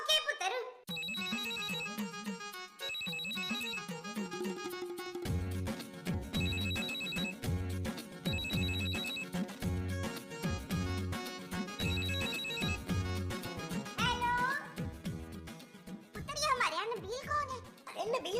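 A phone ringtone plays a repeating melodic tune for a long stretch, bright electronic notes over a beat, clear and up close, with people talking over parts of it.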